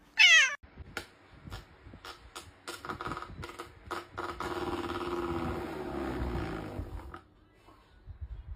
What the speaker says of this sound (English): If you're happy and you know it, say meow.